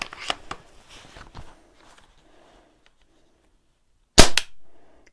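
Trigger pull on a Silverback airsoft sniper rifle, heard as a sharp double snap near the end, close and loud after a stretch of quiet handling noise.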